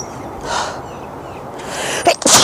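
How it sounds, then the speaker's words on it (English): A single person sneezes, with a short indrawn breath beforehand and then a sharp, loud burst near the end. "Hold on, I'm going to sneeze."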